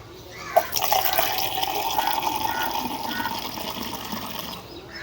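Water poured from a container into rooftop plant pots, a continuous splashing trickle with a brief knock at the start, close but soft, with no talk over it.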